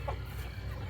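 A chicken clucks softly at night as it lingers by the coop, a few short low calls over a steady background hum, faint and alone with no talk.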